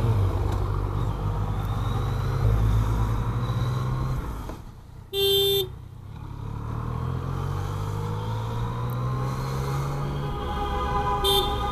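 A car horn sounds once briefly in a tunnel, a short loud tonal blast standing out against steady engine and road rumble echoing around it.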